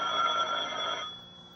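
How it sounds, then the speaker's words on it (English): A telephone bell rings in a 1950s radio drama, a bright metallic trill lasting about a second before cutting off and leaving a faint fading tone. "will that phone ever stop ringing"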